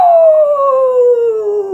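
A single loud, sustained howl, sung by a voice imitating a coyote, sliding steadily downward in pitch from start to finish.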